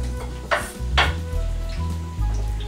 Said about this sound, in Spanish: vamos a freír un poco el arroz